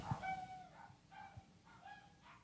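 A dog barks outside the house as someone walks past, a few distant yips and barks spaced apart, faint against a quiet indoor room tone.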